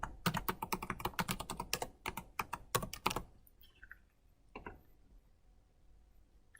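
A password is typed on a computer keyboard: a quick burst of crisp key clicks for about three seconds, then a couple of sparse taps, close and quiet with no talking.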